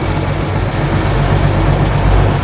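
The Mercedes M180 engine of a Unimog drives in second gear with a steady, loud low rumble that holds constant throughout, heard from inside the vehicle with no talking.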